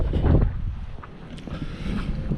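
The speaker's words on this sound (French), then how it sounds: "Et puis, pire encore, il vente, tu vois." Cold wind gusting outdoors at an army post, buffeting the microphone with low rumbling bursts that rise and ease, loudest at the start, with no talk.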